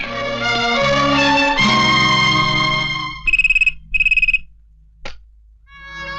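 A telephone rings with a melodic electronic tone over music, then two short trilling bursts follow, loud and close, with a brief click after.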